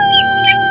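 A rooster's brief call rings out loud and close on a farm with many roosters, over a steady tonal hum.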